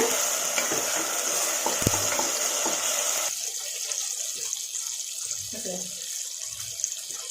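Onions and tomatoes sizzle in a pan as they are sautéed with a little salt for chicken gravy, with steady frying hiss and stirring scrapes close by, louder at first and then settling into softer sizzling.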